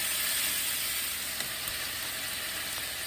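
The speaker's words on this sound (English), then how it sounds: "Listen to that sizzle." Steady sizzling of meat on a hot grill, a constant bright hiss with a few faint pops, close by and with no talking.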